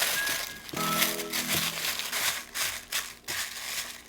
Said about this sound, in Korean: 비닐로 덮어서